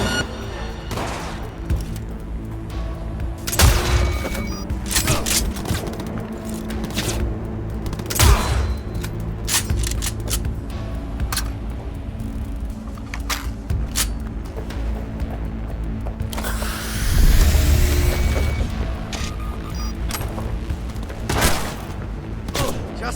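Scattered gunfire and heavy booms during a firefight with Arasaka security forces in Cyberpunk 2077, with irregular sharp shots spread over a long stretch, a louder rumbling burst partway through, and occasional voices.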